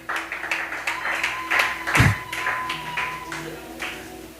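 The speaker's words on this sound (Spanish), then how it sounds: "Dele palmas al Rey de Gloria" Church congregation clapping hands during a service, a steady rhythmic patter of claps with a louder burst near the middle, set against low organ or keyboard tones.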